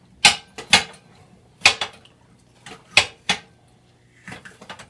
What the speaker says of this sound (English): Hubby is back to stir that pot.